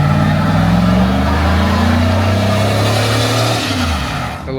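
A pickup truck revs hard and holds high, roaring close and loud as a single rear tire spins in a one-tire peel, the engine note falling off near the end.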